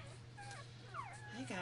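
Newborn puppies, three days old and cuddled together, let out faint high whimpers and thin squeaks, close but quiet over a low steady hum.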